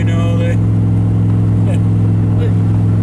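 A loud, deep 1967 Corvette Stingray convertible engine idling with a throbbing low rumble, steady and close throughout.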